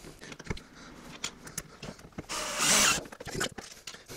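A power screwdriver drives screws into wood at a carpentry workbench. It gives short clicking bursts and then one sustained whirring run near the end, loud and close, with no talking.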